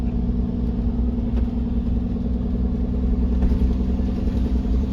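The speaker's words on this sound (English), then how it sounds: "here we go down the hill with the Jake on, nice and slow" A pickup truck with its engine brake engaged, towing a fifth-wheel trailer slowly down a hill near Cimarron on the old Santa Fe Trail, giving a loud, steady low rumbling drone heard from the cab without interruption.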